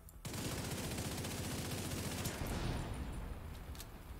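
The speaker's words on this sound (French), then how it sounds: "c'est une tourelle lance-flamme" A flamethrower turret fires in The Division 2 video game, a dense continuous roaring rush that starts abruptly and holds loud and steady for several seconds, then eases slightly.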